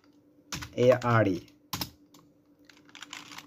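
Typing on a computer keyboard: a brief spoken phrase, then a sharp cluster of key clicks, followed by a run of soft, quick taps close by.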